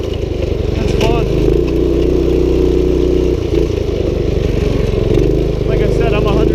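A 1970s minibike engine revs loud and close as a 170-pound rider pulls wheelies on it, the steady mid-pitched buzz rising and dipping, with people talking over it.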